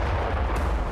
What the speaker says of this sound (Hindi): जहाज में जोरदार धमाका हुआ